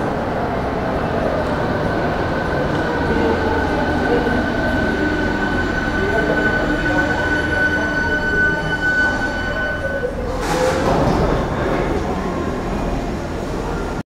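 A driverless VAL automatic metro train in Toulouse runs at speed with a constant loud rumble and a whining tone, and a burst of wheel noise near the end; a voice talks over it throughout.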